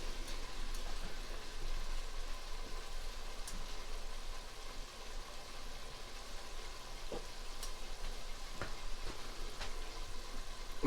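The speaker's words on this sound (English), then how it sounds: "So we're going to let that simmer just for a sec." White Pinot Gris wine simmers in a pot as the base for a fish stew, giving a steady, soft bubbling sizzle with scattered faint pops and no talk.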